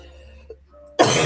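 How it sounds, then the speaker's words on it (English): A single loud, harsh cough bursts out close up after a quiet moment, preceded by faint small shuffling sounds. "This cough is getting more aggressive, and I don't like it."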